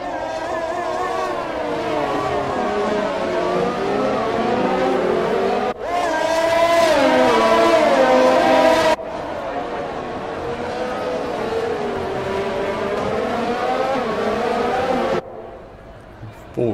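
Formula 1 race car engines in the F1 2020 video game scream continuously with shifting whining pitch as several cars run close together, loud and steady with abrupt cuts, under commentary-style talk.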